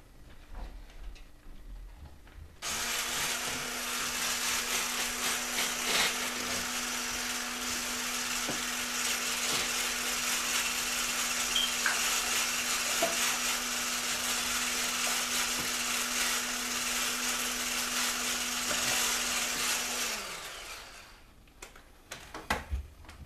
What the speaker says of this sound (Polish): Wszystko zmieszam blenderem.